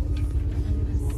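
Steady low engine rumble heard from inside a moving bus, a dense throbbing drone that fills the whole short stretch without pause.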